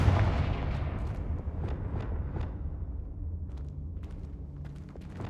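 Confringo fire-blast spell cast in Hogwarts Legacy on PlayStation: several sharp booming bursts, like cannon shots, ring out over a steady low rumble, loud and close.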